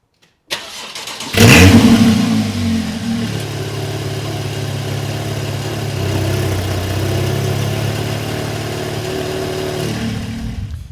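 Porsche 911 engine with Fabspeed headers cranks and fires, flaring loudly at startup, then settles into a steady, strong, close idle for several seconds before cutting off, no talk.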